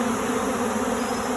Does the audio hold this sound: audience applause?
no